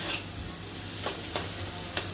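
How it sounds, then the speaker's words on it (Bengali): Egg stirred into chow mein frying in a pan, a steady quiet sizzle with a few sharp scraping clicks of the spatula spaced out across it. "ডিমটা দিয়ে ভালো করে নাড়িয়ে নিতে হবে"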